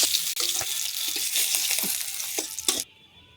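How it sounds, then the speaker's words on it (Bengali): Tilapia fish frying in hot oil in a home kitchen, a loud continuous sizzle with a few clinks and scrapes, cutting off abruptly near the end to near silence. "মাছটা লাল লাল করে ভেজে নেব"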